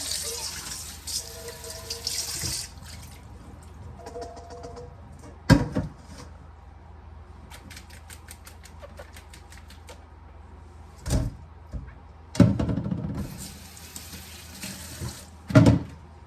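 Tap water runs steadily into a kitchen sink as small lat pat banga fish are drained, with a few louder splashes and clatters breaking in near the end.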